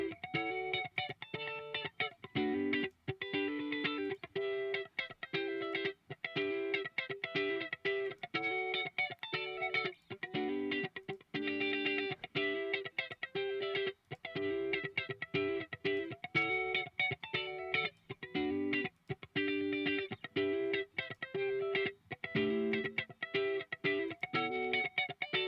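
An electric guitar plays distorted chords and riffs through a Fender '55 Tweed Deluxe amp plugin, captured with a Beyer 160 ribbon mic. Choppy rhythmic strums and short pauses run continuously, with no talking.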